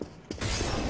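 An incendiary grenade shatters in a shooter game, a sharp glassy break followed by a steady, loud whooshing roar of fire.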